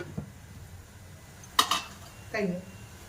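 A lid is set onto a cooking pot of tomatoes, giving a couple of quiet metallic clinks and a short rattle against a low, steady background, with nothing else prominent.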